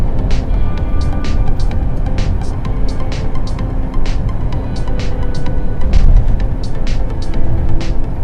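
Car driving at about 70-75 km/h along a Düzce driving exam route, a steady loud engine and road drone throughout with regular ticking clicks, likely the turn signal, repeating over it.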